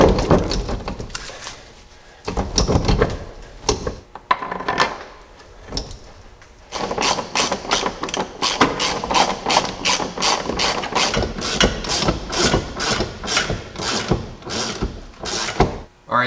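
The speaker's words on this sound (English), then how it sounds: "we'll slide in our rear bolt, and then I will slide in the front one." Bolts slid into the leaf spring mounts of a Jeep Cherokee XJ during a 3-inch suspension lift, giving close metallic scrapes and clunks, then a steady run of rhythmic ratcheting clicks with no talking.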